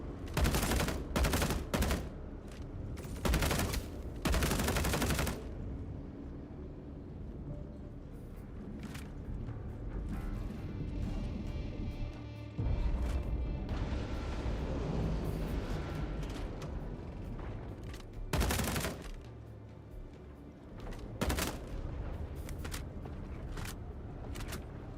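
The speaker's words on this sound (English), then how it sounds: "The gun sound is acting as if I don't have a suppressor on." Unsuppressed gunfire in the sci-fi shooter Orison sounds as loud, sharp bursts of shots, clustered at the start and again later, separated by a low background rumble.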